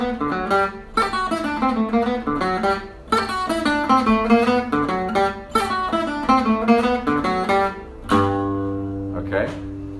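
A gypsy jazz guitar plays a classic ending lick: a quick run of crisp plucked notes, then a final chord left ringing, played close and clear with no voice.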